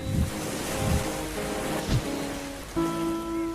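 Ocean waves wash and break on a sandy beach in a few soft surges, with a steady tonal music bed playing over them.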